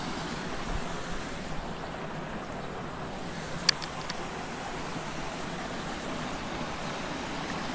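The Gandasoli river flows beneath a railway bridge as a steady, even wash of rushing water that carries on unbroken, with a couple of faint clicks near the middle.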